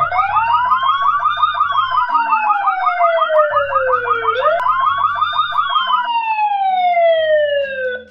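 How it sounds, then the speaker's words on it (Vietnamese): A Yoosee smart security camera's alarm siren wails loudly and continuously, sweeping up and down in pitch with no voices. "chúng ta sẽ nhấn vào on guard thì nó sẽ bắt đầu hoạt động chức năng báo động nè"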